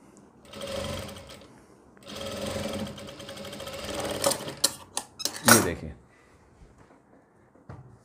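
A sewing machine stitches a readymade suit kurti in bursts: two long runs of motor whir, then a string of short stops and starts, with a brief final burst near the end.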